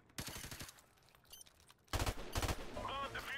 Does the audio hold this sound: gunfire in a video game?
yes